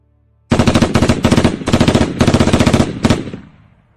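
Loud machine gun fire erupts in several rapid bursts of closely spaced shots, separated by brief gaps, with a reverberant tail fading out after the final burst.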